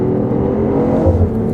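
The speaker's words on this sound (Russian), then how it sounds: "Для машины с 3-цилиндровым турбомотором i8 басит вполне спортивно." The three-cylinder turbo engine of a BMW i8 hybrid accelerates with a loud, close, deep sporty drone that rises slightly, heard from inside the car.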